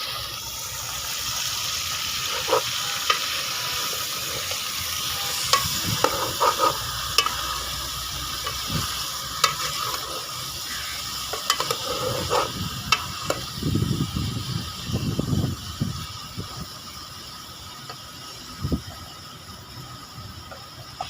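Food fries in a pan while being stirred, a steady close sizzle with irregular spoon scrapes and clatters that grow busier toward the middle before easing off, with no voices.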